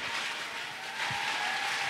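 Audience applause at a church conference, a dense, continuous wash of clapping from a crowd that swells slightly halfway through.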